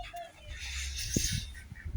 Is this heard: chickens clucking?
yes